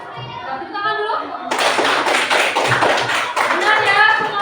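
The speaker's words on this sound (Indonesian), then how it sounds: "Tepuk tangan dulu." Schoolchildren in a classroom burst into dense, steady clapping after a teacher's brief spoken line, and the applause keeps going loudly to the end.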